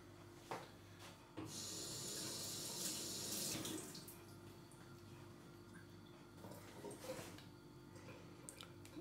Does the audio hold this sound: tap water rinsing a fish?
yes